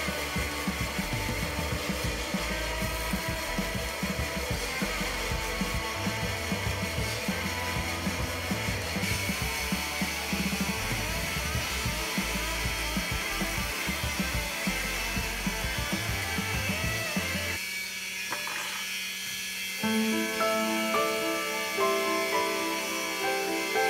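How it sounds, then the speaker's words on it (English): A small 3/4-inch wheel grinder attachment running at low speed cuts serrations into a handmade bread knife, a steady close whir that grinds on for about 17 seconds before the tool changes pitch and tapers into lighter running. "using my 3/4 inch small wheel attachment on a really low speed, I start cutting in the serrations"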